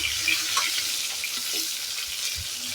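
Rohu fish frying in a covered pan of oil gives a steady crackling sizzle, loud and close, with scattered sharper pops and spits over the continuous hiss.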